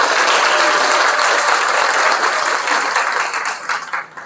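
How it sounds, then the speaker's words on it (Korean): An audience at a Korean political party's labor committee launch ceremony applauds with dense, steady clapping that lasts several seconds before thinning out and fading near the end. "큰 박수 부탁드립니다."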